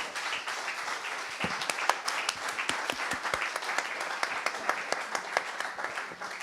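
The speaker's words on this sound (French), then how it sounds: "On peut les applaudir." Applause from a seated audience for round-table speakers at a food ethics conference; moderate, uneven clapping with distinct individual claps standing out, continuing throughout without speech.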